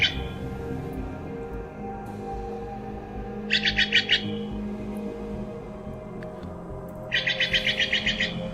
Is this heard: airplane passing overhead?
no